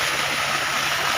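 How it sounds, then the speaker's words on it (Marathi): High-pressure water gushes from a village pipeline being tapped for farm irrigation, a loud, steady rushing roar with no pauses, close by and heard alone. "हे पाण्याचं प्रेशर बघा किती लांब येत आहे."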